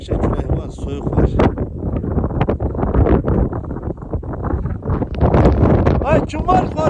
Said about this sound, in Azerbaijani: Qəşəng külək var, soyuq var.